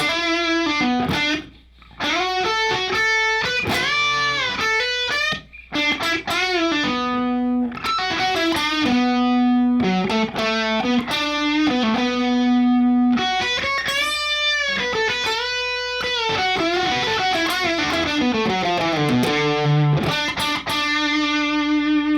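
Distorted electric guitar plays a part through effects, a continuous run of sustained, bent and repeated notes, loud and close with no talking.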